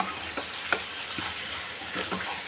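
Chicken pepper gravy being stirred in a pan gives a soft sizzle with a few light scrapes and taps of a spoon, faint and steady, with no voices.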